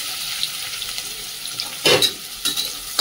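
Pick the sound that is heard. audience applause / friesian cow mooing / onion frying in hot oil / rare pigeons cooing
onion frying in hot oil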